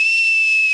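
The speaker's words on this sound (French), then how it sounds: "Je crois que c'est le sifflet dans Star Trek." A Star Trek whistle toy received as a gift gives a short, steady, shrill hissing whistle, loud and close, holding one high pitch for under a second.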